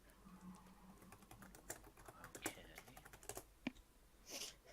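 Private message being typed on a computer keyboard: quick, uneven keystrokes and clacks, close and moderately loud, with no talking.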